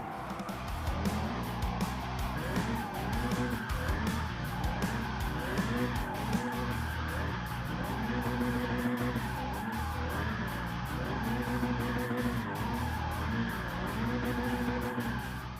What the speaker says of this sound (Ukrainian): Поступово ми починаємо збільшувати швидкість в заносі